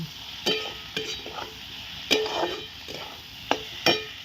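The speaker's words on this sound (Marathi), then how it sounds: "कांदा आता भाजला टोमॅटो पण टाकला आता परतायला परत मग काय लसूण टाकला आता मटकी टाकली" Onion, tomato, garlic and sprouted moth beans sauté in a pan. Scraping stirs come in irregular bursts over a soft, low sizzle, with no voices.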